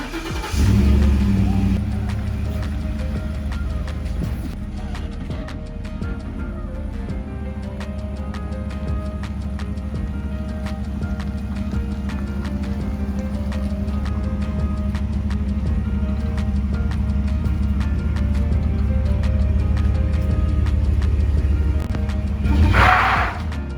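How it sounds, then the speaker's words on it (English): A Ford F150 Raptor truck idles and rolls out into the street before backing up, a steady low engine rumble close by for about twenty seconds with brief louder bursts at the start and end. "we're going to just drive out in the street a little bit and then we'll back up"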